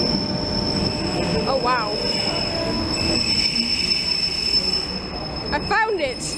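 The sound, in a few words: local commuter train arriving at station platform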